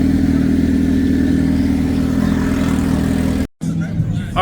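Motorcycle engines idle and rumble at a bike meet-up, with a steady low throb nearby, then a brief cut to a different shot. A voice talks over the engines.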